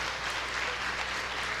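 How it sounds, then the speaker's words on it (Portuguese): A Portuguese-speaking evangelical church congregation applauding in praise during a worship service: continuous, fairly loud crowd clapping that holds an even level from start to end without speech. "Vamos aplaudir o Senhor Jesus?"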